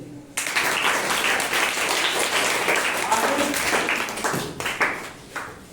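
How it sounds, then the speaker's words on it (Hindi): A classroom of students bursts into fast clapping after a lesson on circular motion, a dense continuous patter that ends in a few scattered final claps. "और इतना गति से ताली तो बजाइए।"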